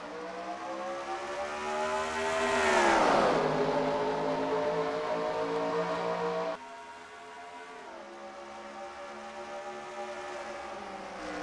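Simulated NASCAR stock cars at Michigan in NASCAR Racing 2003 roar past with a loud rising then falling engine whine, a dense pack of revving motors sweeping by close and then fading into a steadier drone.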